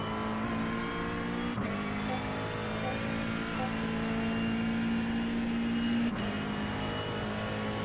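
GT3 race car in iRacing at Spa, engine droning steadily at sustained high revs with small throttle lifts and shifts, a continuous close mechanical whine with no talk.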